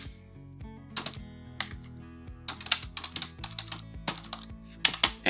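Someone types on a computer keyboard while entering data into a spreadsheet, with irregular bursts of close, crisp key clicks separated by short pauses.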